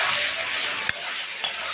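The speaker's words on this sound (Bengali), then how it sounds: "এই যে হচ্ছে মাছ ভাজা" Fish frying in a pan for a mustard fish curry, a steady close sizzle and crackle of hot oil running throughout, with two brief soft clicks partway through.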